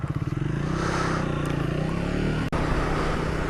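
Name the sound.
Triumph Speed 400 motorcycle riding and pulling over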